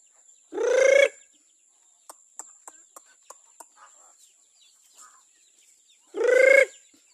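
Chickens in a coop, two loud clucking calls near at hand at the start and the end, with faint scattered pecking clicks and soft clucks between them, no speech.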